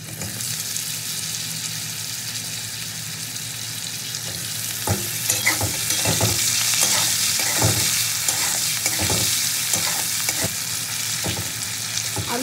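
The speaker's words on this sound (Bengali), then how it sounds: "আলু বেগুনটা খুব ভালো করে ভেজে নেবো আমি।" Potatoes and eggplant frying together in a pan, a continuous loud sizzle with repeated scraping stirs of a spatula at irregular intervals, no talking.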